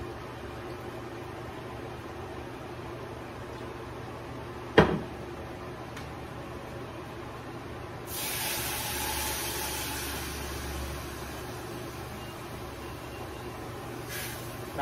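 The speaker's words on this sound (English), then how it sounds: "once it's done, you add in the cup of your red wine." Red wine poured into a pan of melted butter over low to medium heat: a soft hissing sizzle rises partway through and holds steadily, faint under a quiet background, after a brief clatter.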